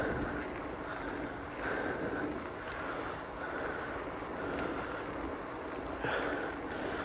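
Steady wind buffets the microphone with a low, rumbling roar that swells and eases in gusts, with a faint hiss above.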